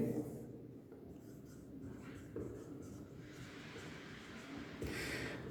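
Chalk or marker scratching steadily across a classroom board as a chemistry mechanism is written out, a continuous close rasping scrawl with short pauses between strokes.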